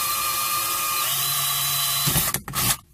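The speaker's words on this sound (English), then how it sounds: "So let's drill out one of these here." A power drill bores out rivets on a motorcycle spark arrestor canister for a Honda CRF250R, whining steadily and loud up close, then bogging and stopping in a few short bursts at the end.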